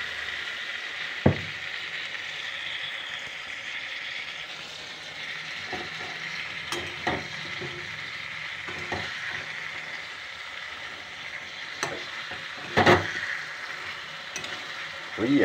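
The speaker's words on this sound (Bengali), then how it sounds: "আলু বেগুন দিয়ে মাছের ঝোল, সেটা বানাচ্ছি" Fish curry with potato and eggplant fries in a pan with a steady, moderately loud sizzle, broken by a few sharp clanks of a utensil stirring, with no talking.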